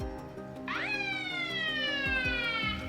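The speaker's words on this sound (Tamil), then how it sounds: "இந்த மாதிரி அலாரம் அடிக்கும்" A loud electronic anti-theft alarm siren from a mobile phone kicks in, sweeping sharply upward and then gliding slowly down in a continuous, piercing wail.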